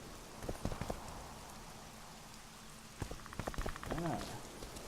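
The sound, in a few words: rain in the video game The Witcher 2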